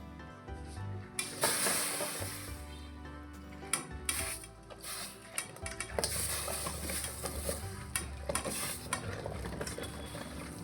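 Yam stalks go into a wok of heating water for steaming, with close metallic clatter and scraping from stirring and a soft sizzle underneath, irregular knocks throughout and no voices.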